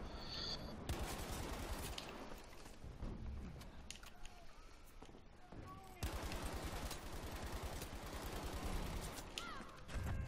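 MG42 machine gun in Battlefield 5 firing in rapid, sustained bursts, loud and close, broken by a short pause and then another long stream of fire amid game battle noise.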